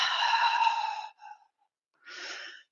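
A long audible exhale during a yoga class, followed by a shorter breath and a final soft sigh, close and quiet with no talking.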